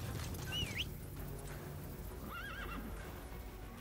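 Two horse whinnies ring out a couple of seconds apart in Metal Gear Solid V over a steady low game-ambience rumble, with soft hoof clip-clops in the background.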